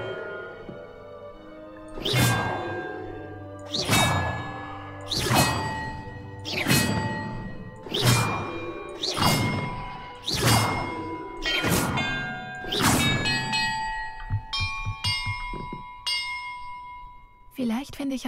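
Bells in a bell puzzle in Hogwarts Legacy are struck one after another in an even rhythm, about nine ringing clangs with lingering tones, then a few lighter, quicker chimes at the end.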